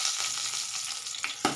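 Curry leaves and dried red chillies crackle and sizzle in hot oil, a steady fry with a couple of sharp pops near the end.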